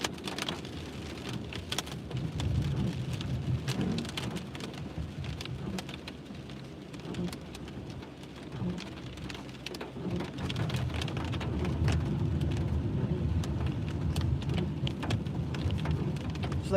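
Heavy rain pours steadily during a severe thunderstorm in Nassau County, New York, with low rumbles of thunder rolling beneath the constant hiss and swelling in intensity toward the end.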